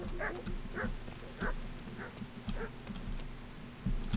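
A dog barks repeatedly in the medieval video game Kingdom Come: Deliverance, short moderate barks roughly every half second to second, set against a steady rain-like background hiss.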